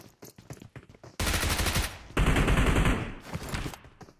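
Gunfire in the battle royale game PUBG Mobile: a few scattered sharp shots, then a loud, dense stretch of rapid automatic fire lasting about two seconds, a brief break, and another heavy burst before it thins out.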